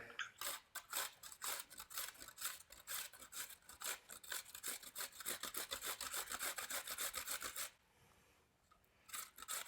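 A whole cucumber rubbed quickly against a grater and shredded into a towel, a dense run of rapid rasping strokes close by, each stroke crisp and scratchy, easing off into quieter scraping near the end.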